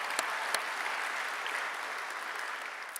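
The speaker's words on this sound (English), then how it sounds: "let's give her a round of applause" Audience at a Stanford athletics awards ceremony giving a round of applause, an even, sustained roar of many hands clapping throughout with a couple of sharper claps near the start.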